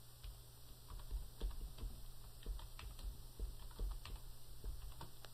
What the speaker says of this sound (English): When I get it typed in, I'll press Enter.